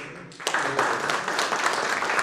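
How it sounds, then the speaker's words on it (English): Audience applause as two panelists take the stage at a cyber security event for enterprises, a dense steady round of clapping that swells in after a brief quiet start and holds loud throughout. "Neehar and Ashwani, please come on the dais and give them a big round of applause."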